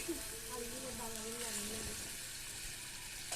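White chicken meat tipped into a hot frying pan, sizzling steadily throughout with faint stirring, the frying noise close and continuous with no talk.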